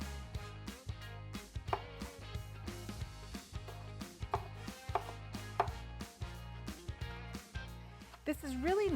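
A knife chops tomatoes into bite-sized pieces on a board for an Italian hoagie dip, with steady, evenly spaced close thuds running throughout and a brief voice near the end.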